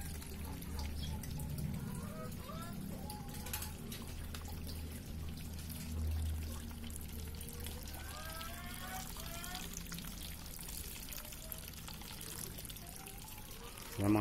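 A strong stream of water flows in an outdoor garden setting, a continuous splashing pour and trickle heard at moderate distance with a faint background hum.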